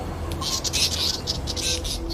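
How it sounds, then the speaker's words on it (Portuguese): Wild birds in a Sri Lankan forest mob a mongoose, giving a rapid run of sharp, bright chirping calls in repeated bursts over a steady background hum, fairly close and moderately loud. "Olha os ataques do pássaro no mangusto."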